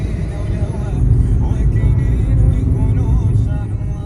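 A car drives along a scenic road through dramatic Moroccan canyons near the Todgha Gorges, with a loud, close engine drone and rushing road and wind rumble filling the whole stretch.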